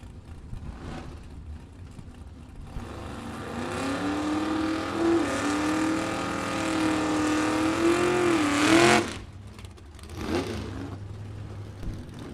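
Drag race cars at a Super Pro bracket event power down the strip, a loud sustained engine roar building for several seconds with rising pitch, then cutting off abruptly as the run ends, leaving quieter track ambience.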